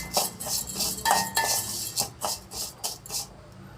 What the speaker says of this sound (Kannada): ಸ್ವಲ್ಪ ಕೆಂಪು ಆಗೋರು ಹುರ್ಕೋತಾ ಇದ್ದೀನಿ